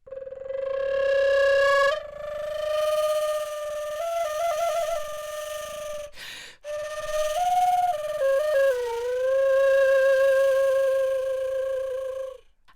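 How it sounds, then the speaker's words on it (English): A recorder plays sustained notes with a rapid warbling flutter, sliding between pitches, with a short break midway before continuing. "what we refer to in recorder terms as the throat flutter"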